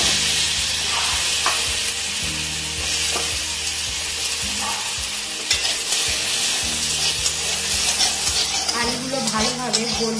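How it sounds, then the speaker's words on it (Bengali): Potatoes fry in a pan of hot mustard oil already used for frying tilapia, giving a loud, constant sizzle broken by the clatter and scrape of stirring throughout. "এই মাছ ভাজার তেলের মধ্যে আলুগুলো ভেজে নেব।"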